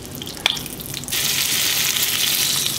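Chicken fried steak lowered into hot oil: quiet bubbling, a sharp splash, then a loud, dense sizzle that jumps up and holds steady to the end, with no voices.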